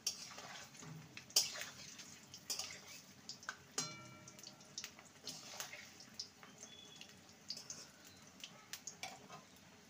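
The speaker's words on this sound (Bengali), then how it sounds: "মিডিয়াম ফ্লেমে এগুলোকে ভেজে নিতে হবে" Parwal kofta, pointed gourd dumplings, frying in oil over a medium flame, giving a soft, steady sizzle with scattered bubbling pops and an occasional sharp utensil clink, fairly quiet throughout.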